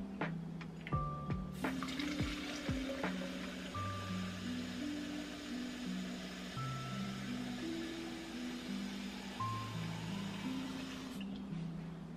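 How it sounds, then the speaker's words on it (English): Cold water pours into a cheetah-design, color-changing cold cup in a steady, rushing stream lasting about ten seconds, with music playing throughout. "I am gonna go and put some cold water in here so that way y'all can see it color change."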